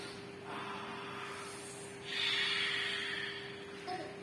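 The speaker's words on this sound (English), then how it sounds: "another one is have the exhaling with open mouth" Open-mouthed exhalations during a breathing exercise, two soft airy breaths, the second longer and stronger, close and fairly quiet with a steady background hum.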